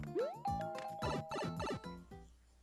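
A musical chime from the video game New Super Mario Bros. U sounds like a doorbell. A rising tone leads into a sequence of bright, tonal notes that play at a quiet level, with no talking over them.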